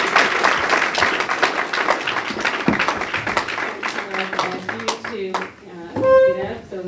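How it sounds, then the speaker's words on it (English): Audience applause at a community forum with county council candidates, dense clapping for several seconds that thins out, with a voice speaking over the end. "Would you join me in giving them a round of applause?"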